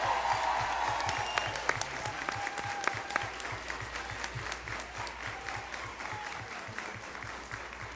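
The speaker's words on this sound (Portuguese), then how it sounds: "E uma salva de palmas a todos vocês que estão presentes aqui hoje." Audience applause fills the room at a public hearing on youth and violence, a dense, steady clapping that carries on for several seconds, fairly loud and close, with no talk over it.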